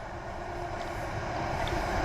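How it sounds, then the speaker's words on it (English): Two trains pass one another in opposite directions, making a steady rolling rumble that grows slightly louder, heard outdoors from nearby with no talking. "Oh, 2 trains, 1 in each direction."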